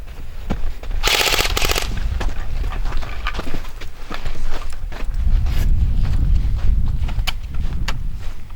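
Airsoft guns fire during an outdoor airsoft game, with sharp clicking bursts and rapid runs of shots at middle distance amid footsteps and rustling.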